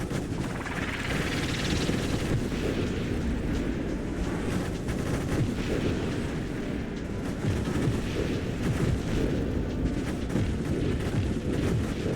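A Void Gatler gun in a video game fires in repeated tap bursts, loud and close, a steady rattling barrage over a low rumbling background with no talking.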